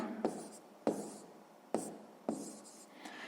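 Pen strokes on paper write out a sixth-grade fraction math solution by hand, four or five distinct scratchy strokes with short pauses between, close and fairly quiet.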